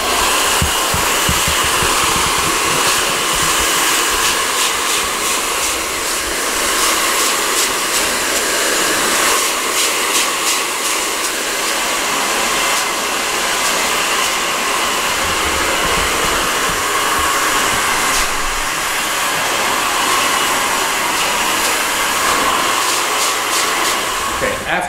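A hair dryer blows steadily and loudly throughout while a vent brush works through a short flattop haircut, the constant airflow roar running unbroken for the whole stretch with no talk over it.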